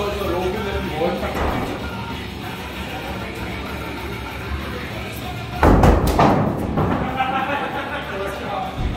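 A thrown axe strikes a wooden target at an axe-throwing venue, a single hard thud standing out from constant crowd chatter and background noise of the busy hall.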